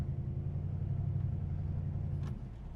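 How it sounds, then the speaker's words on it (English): A 1969 Dodge Charger's exhaust idles with a steady, deep low rumble, close and continuous, easing slightly near the end. "Listen to the exhaust"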